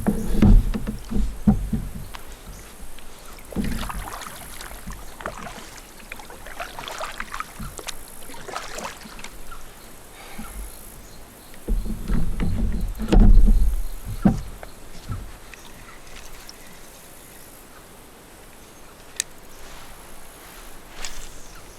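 Kayak paddling on open water while fishing, with soft rhythmic strokes and splashes, drips and water sloshing near the boat, louder bursts around the middle of the stretch and no talking.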